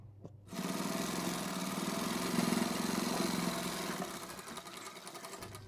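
An electric sewing machine stitches lace onto a transparent plastic sheet, starting abruptly and running as a steady, fast mechanical whir for several seconds before slowing and stopping.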